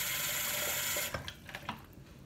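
Water from a tap pours into a wash basin in a steady, bright rush that cuts off after about a second, followed by a few light splashes and drips.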